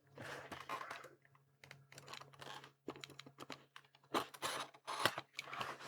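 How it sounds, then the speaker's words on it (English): A blade slices through the seal and cardboard of a 3D printer filament box, giving close, quiet, irregular scratchy cuts and crinkles in short bursts. "We've got to cut the seal, and remember the basic rule is to cut the seal and cut the box away from yourself."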